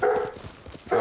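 A dog barks in a video game set around an inn, with two loud bursts at the start and end separated by a quieter stretch of low rumbling game sound.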